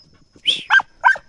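A young female dog, about two years old, gives three short, sharp barks in quick succession at the mouth of an armadillo burrow, close and fairly loud in a quiet outdoor setting.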